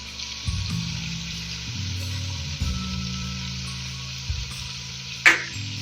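Whole garam masala spices (cinnamon, cloves, nutmeg, black peppercorns, black cumin) frying lightly in oil for beef karahi, a steady close sizzle with stirring scrapes and a sharp metallic clink near the end.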